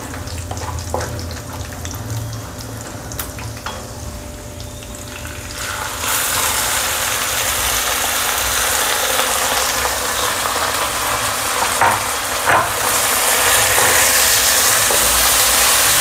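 Broken wheat dalia with dry fruits hits hot ghee in a pan, and a loud broadband sizzle bursts in partway through and then holds as a steady, close hiss.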